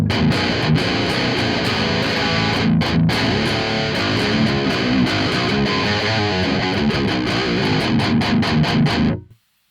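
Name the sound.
electric guitar through Audio Assault RVXX high gain amp sim, boost disengaged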